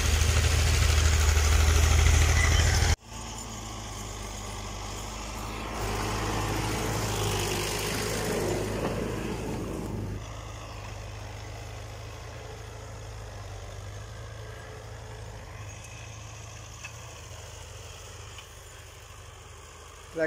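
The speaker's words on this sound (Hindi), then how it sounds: "एक ये ट्रैक्टर लगा हुआ है" A tractor works a rice field in a village, its engine running in a steady low drone at a distance, with a brief louder rumble at the start before settling into a softer, continuous hum.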